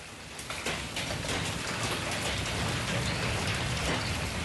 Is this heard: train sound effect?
no